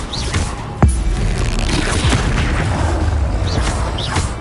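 Incendio fire spell in Hogwarts Legacy: a sudden thudding burst followed by a sustained roaring whoosh of flame that holds steady and loud to the end.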